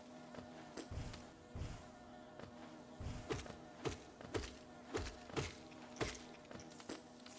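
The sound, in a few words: buzzing flies in the video game Hollow Knight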